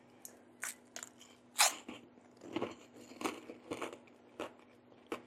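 Bites into crunchy freeze-dried chocolate-coated mango give a series of sharp, close crunches and crackles, with about ten separate irregular bursts, one especially loud early on, over a quiet background.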